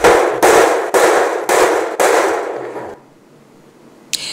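Five loud, evenly spaced metal clangs from hammering on metal in a metalworking workshop in Kinshasa, each ringing briefly, then near silence and one sharp final knock.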